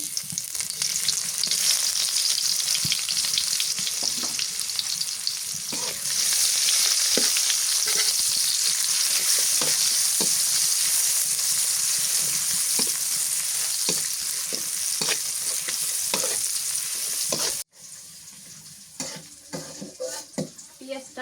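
Ingredients for khichuri with beef tripe fry in a pan with loud, steady sizzling and stirring scrapes. The sizzle drops abruptly near the end to a quieter crackle.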